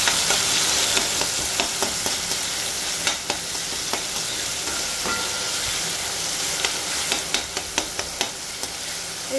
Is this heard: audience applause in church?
no